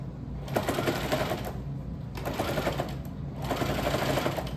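A sewing machine stitches a stretched fabric square in three loud bursts of rapid, rattling needle action, each separated by a short pause, close up with no talking.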